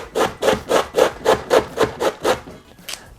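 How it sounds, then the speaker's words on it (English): Cabbage for KFC-style creamy coleslaw being grated from the bottom up toward the stem, about nine rhythmic rasping strokes close up, evenly spaced and loud, with no talking. "You want to grate it from the bottom up to the stem"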